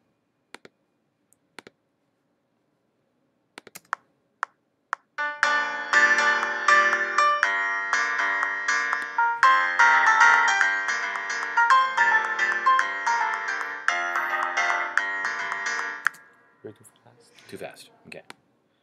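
Tokyo Ghoul theme played on an acoustic piano, a steady stream of sustained chords and melody lasting about ten seconds after a few scattered taps, then fading out.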